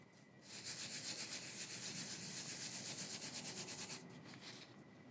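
Small pieces for a bracelet being sanded by hand, a steady, fairly loud rasping rub that runs continuously for about four seconds, then a short pause and a brief final burst, with no talking.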